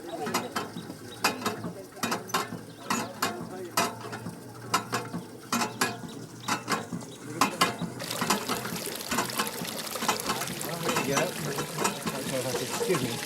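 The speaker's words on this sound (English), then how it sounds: "A 90-foot well has been sunk and pure water pumped up by the simplest technology." A simple village well pump over a 90-foot well works in a steady rhythm, with repeated mechanical clanks and squeaks, followed by water gushing out loudly near the end.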